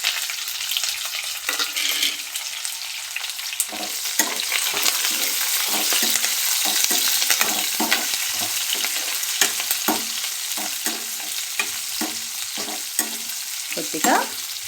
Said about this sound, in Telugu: లైట్ బ్రౌన్ కలర్లోకి వచ్చేంత వరకు మనము ఆయిల్లో ఫ్రై చేసుకోవాలి.